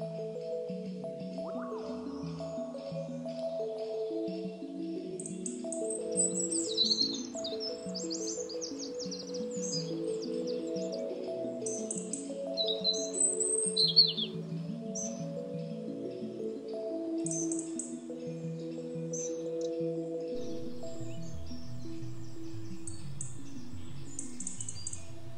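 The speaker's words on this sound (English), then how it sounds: "Blackbirds may be a common sight in our gardens and parks today, but a long time ago they were confined to the woodlands." A blackbird sings in a British woodland in the Forest of Dean in summer, with fluting phrases over a soft wash of other high bird chirps, steady and moderately near with no voices.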